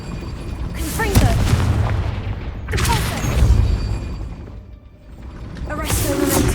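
The Confringo blasting-curse explosions in the Hogwarts Legacy game land as three loud, booming bursts a couple of seconds apart, each rumbling and crackling as it fades.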